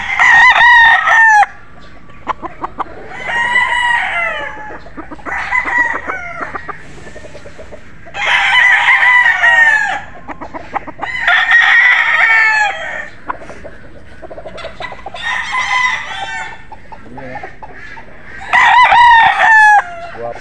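Street-breed golden boy gamefowl roosters crow loudly and repeatedly nearby in long, strained calls, with clucking between the crows.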